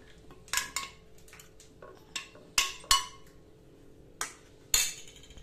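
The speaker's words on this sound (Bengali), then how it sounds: "আর প্রত্যেকটা জিনিস খুব ভালোভাবে একটু মিশিয়ে নেব।" Metal spoon clinking against a glass or jug while stirring detox water ingredients, a handful of sharp irregular clinks and taps with quiet pauses between them.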